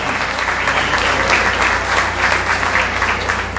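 Sustained applause from an audience at a book presentation, a dense, steady clatter of many hands clapping together for several seconds, loud and close.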